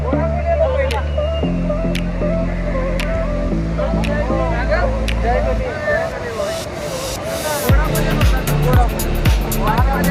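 Heavy rushing water from Kalu Waterfall in the Sahyadri hills during rain, a dense steady roar filling the scene, with voices talking over it and a low rumbling hum underneath.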